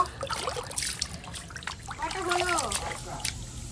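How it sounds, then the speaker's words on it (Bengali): Chopped bottle gourd greens are squeezed and washed by hand in a pot of water, giving steady close trickling and splashing, with a voice speaking over it. "এখন ভালো করে চটকে শাকটাকে ধুয়ে নেব"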